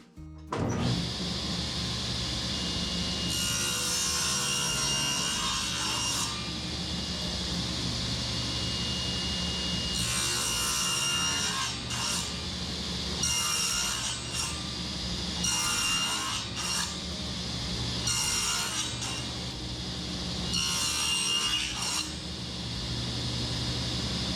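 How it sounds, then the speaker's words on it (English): A saw set to one-inch depth cuts a series of passes into wood while adding a shelf to a workbench, giving a steady loud whine with repeated rising bursts as each pass bites, close and continuous. "Now I set my saw blade to 1 inch, and then I'm going to make a series of passes here and just hog that out"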